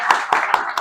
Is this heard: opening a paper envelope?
no